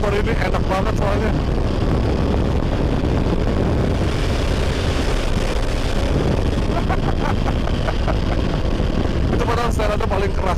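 A 2022 Triumph Tiger 1200 Rally Pro being ridden at speed, its engine drone buried under heavy rushing wind noise on the helmet microphone. The roar holds steady throughout, and a rider talks over it at times.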